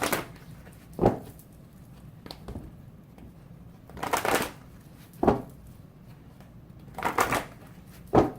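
Tarot cards being shuffled by hand, with several separate bursts of riffling and snapping spaced a second or two apart against a quiet room.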